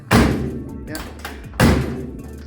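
A car door slammed shut twice, two heavy close thuds about one and a half seconds apart with a short rattling resonance, with a faint voice in between.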